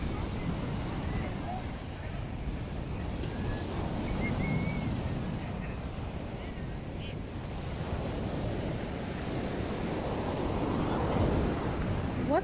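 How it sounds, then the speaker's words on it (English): Sea waves wash onto a beach in Málaga, Spain, a steady surf roar mixed with wind buffeting the microphone, with a voice speaking over parts of it. "And you still have these cool waves."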